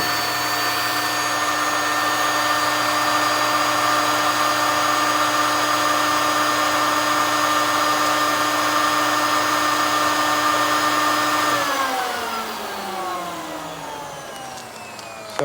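A Sergeant Vacumaster skin packaging machine runs its vacuum pump with a loud, steady whine and hum, drawing Surlyn film tight around a product, then the pitch drops and winds down as the cycle ends.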